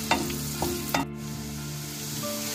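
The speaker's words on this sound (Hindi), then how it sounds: "बटर जब मेल्ट होने लगे तब हरा प्याज का ये सफेद पोषण डाल दीजिए। इसको अच्छे से चला लेना है" Green onion whites frying in melted butter as a spatula stirs them, a steady close sizzle punctuated by a few clinks and scrapes of the utensil against the pan.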